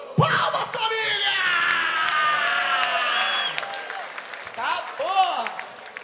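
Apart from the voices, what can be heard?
audience applause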